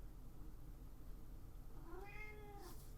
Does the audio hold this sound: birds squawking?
no